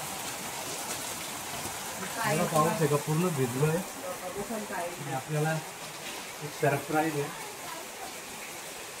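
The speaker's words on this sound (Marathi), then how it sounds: "पाऊस बघा बाहेर किती पाऊस आहे." Heavy rain falls outside as a constant hiss and patter throughout, with a person speaking over it in short bursts.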